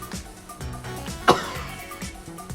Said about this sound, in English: I need you to cough in your hands now.